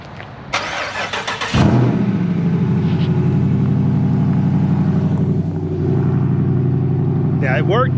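A car engine starts by remote auto start: a brief grinding crank, then the engine catches and settles into a steady, loud idle, with a voice briefly heard near the end.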